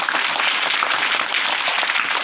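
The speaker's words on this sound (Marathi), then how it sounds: "त्या टाळ्या वाजवा सगळेजण." A room full of people clapping together, loud, dense and close, a brief burst of applause lasting a couple of seconds without any voices.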